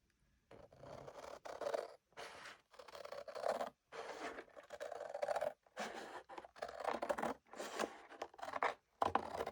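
Scissors cut through a junk journal cover in a series of close, crisp crunching snips, each followed by a brief pause, repeating steadily with no talking.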